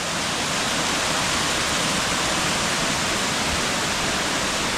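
Water rushes steadily over the front of a dam in Ulvik, Norway: a dense, loud, unbroken roar that stays constant throughout, with no voices heard.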